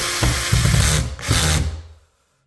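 A power drill set to a low setting whirs in two short bursts, close by, each spinning up then cutting off, followed by silence, while installing ceiling speakers.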